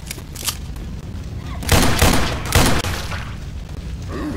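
Gunfire in the zombie shooter Left 4 Dead 2: a dense burst of loud, close shots around the middle, with scattered single shots before and after over steady game noise.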